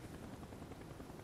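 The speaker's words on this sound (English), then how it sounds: "you can hear the helicopter above" A helicopter flies overhead in the video game Call of Duty Black Ops, its rotor giving a steady, fairly faint low throb that lasts only about a second.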